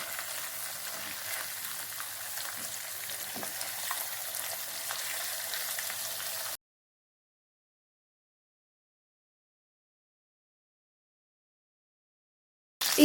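Chicken leg pieces frying in hot oil: a steady, fairly quiet sizzle for about six seconds, then the sound cuts out into silence.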